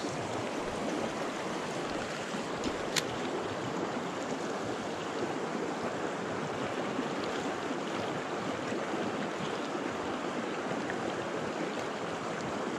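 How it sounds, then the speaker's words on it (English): A cool creek with its runoff flows in a steady, broadband rush that holds close and even throughout, with one brief sharp click partway through. "All right, cool creek and its runoff."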